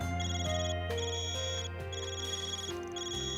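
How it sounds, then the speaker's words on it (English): A Zypha communicator rings in the video game Trails Beyond the Horizon, a steady electronic ringtone of sustained layered tones that carries on without interruption for several seconds, with no talking over it. "Van, your Zypha's ringing."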